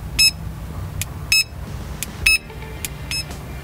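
A Mini Micron carp fishing bite alarm gives short electronic beeps at several different pitches, sounding in irregular single and double chirps, close and clear over a low background hum.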